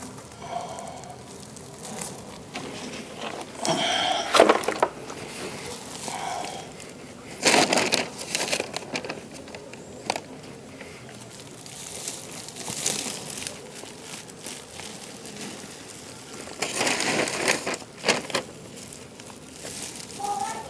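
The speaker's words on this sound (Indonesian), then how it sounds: "Kemudian tanahnya kita masukkan juga nih." Garden soil is tipped into a planting container while a chili plant is potted among leaf litter, giving dry crumbly rustles and crunching bursts that come in several separate pours with quieter gaps between.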